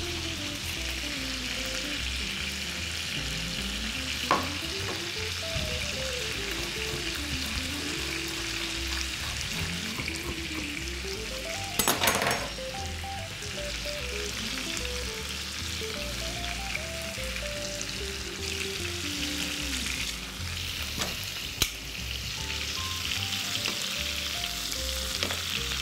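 Vegetables with red sweet bell pepper fry in a pan in a steady, close sizzle, with occasional stirring scrapes and light clinks, and no talking.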